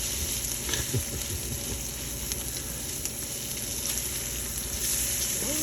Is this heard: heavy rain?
no